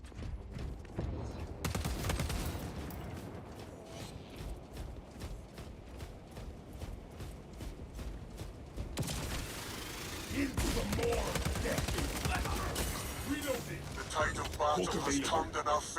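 Burst-fire shots from a 3-round burst weapon in Space Marine 2, with rhythmic clusters of sharp shots under a busy battle mix and voices.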